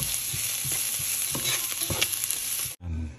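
Garlic and ginger sauté in a hot pan, a steady loud sizzle broken by scraping stirs, then a brief clatter and sudden cut near the end.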